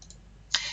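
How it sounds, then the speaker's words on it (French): A single computer mouse click while confirming a dialog in an office program, one short crisp tick up close in a quiet room, followed by a faint hiss. "je clique sur OK"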